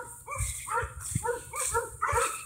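Several dogs at an animal adoption shelter bark and yip in quick, overlapping bursts, close by and fairly loud, with a whimpering edge to some calls.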